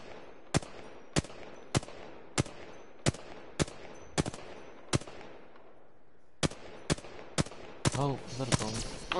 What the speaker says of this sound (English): Oh, someone shooting me from the other side.